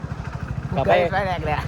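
A motorcycle engine running while riding during the Uttarayan kite festival, a low rhythmic pulsing throb throughout, close by, with a voice talking over the second half.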